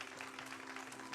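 A live speedrun event audience gives a short burst of applause for the Twitch chat during a Diablo 2: Lord of Destruction run. The clapping is faint and distant, a brief even patter with no talk over it.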